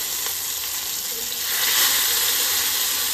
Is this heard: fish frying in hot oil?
yes